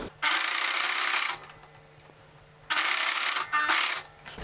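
A sewing machine stitching a polo shirt collar runs in two steady bursts of rapid buzzing, with quiet pauses and faint handling between them.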